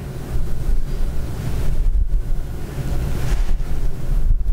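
More small rocks tipped into an already partly filled container during a sermon demonstration, producing a loud, steady, gravelly rush that runs close for several seconds without any speech.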